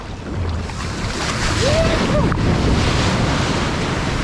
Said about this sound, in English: Check the waves here.